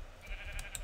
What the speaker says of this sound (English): I'm sorry, sheep. Kind of have to kill you.